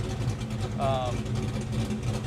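A Fox Body Mustang engine idles with a low, steady hum, a brief higher whine rising partway through, and voices faintly under it.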